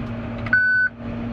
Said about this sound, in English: What are you beeping about?